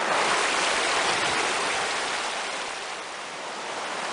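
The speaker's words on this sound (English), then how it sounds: "I gotta cross this river today" A river rushes past at a wilderness crossing point, a loud continuous broadband wash of flowing water heard close by, dipping slightly in level partway through, with no talking.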